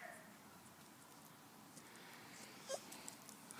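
A small, fluffy little dog whimpers faintly with a brief high whine rising near the end, set against quiet background hiss and no talking.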